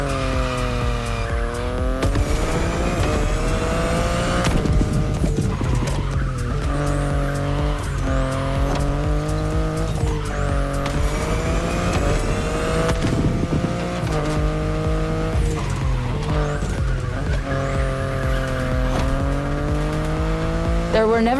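BMW i8 sports car in The Crew Motorfest, its electric-hybrid drone rising and falling through shifts, with repeated tire squeals and skids as it corners hard, steady and close under a voice speaking.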